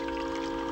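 Hot coffee poured into a cup, a short steady liquid stream with a rising ringing tone as it fills, close and clear with no talk.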